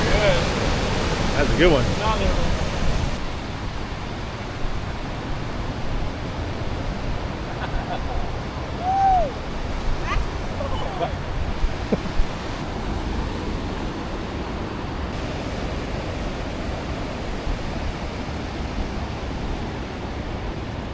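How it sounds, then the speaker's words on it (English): Ocean surf breaking on a beach at Galveston, a steady broadband wash of waves rolling in continuously, with people talking briefly near the start over the constant roar. "Big wave."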